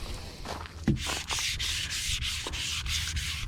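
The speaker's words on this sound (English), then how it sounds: "you'll see it start sanding the surface of that primer off" Continuous wet sanding scrapes primer off a fiberglass RV surface in quick back-and-forth strokes, close and fairly loud, with a few knocks early on.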